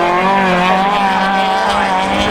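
Autograss race cars howl around a dirt track at a St Neots meeting, a loud, continuous, layered engine roar from several cars at high revs, with no break and no voices.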